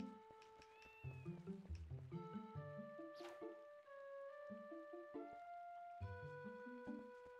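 A cat meows repeatedly in the video game The Legend of Zelda: Twilight Princess on GameCube, several short mews over a layered, plinking game music score, with no talking.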